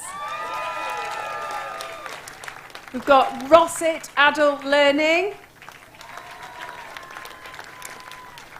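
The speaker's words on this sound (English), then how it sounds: "So give yourselves a big applause." Applause from an audience at a local hero awards ceremony rolls on underneath a voice as he announces the next nominee, with clapping continuing in the background.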